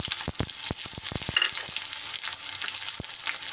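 Chopped onions hit hot oil with tempering spices; a quick burst of clattering stirring strikes gives way to a loud, steady sizzle nearby.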